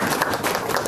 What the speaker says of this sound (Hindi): एक बार और तालियां।